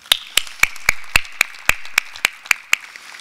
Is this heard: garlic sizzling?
no